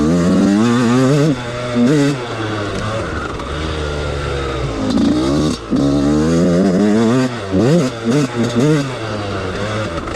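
An older Yamaha YZ 125 two-stroke dirt bike with a re-shimmed cylinder revs repeatedly, its loud, buzzy engine note climbing and falling in sharp throttle blips close by, with a voice talking between some revs.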